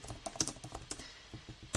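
A record number keyed in on a computer keyboard during data entry: a quick, uneven run of light clicking keystrokes, close by and soft, with no voices.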